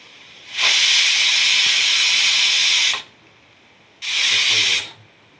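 Pressure cooker whistle shrieking with steam as mutton cooks, one long loud blast of about two and a half seconds followed by a shorter second burst after a quiet gap.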